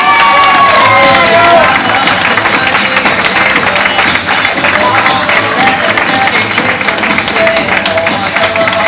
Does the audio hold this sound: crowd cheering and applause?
yes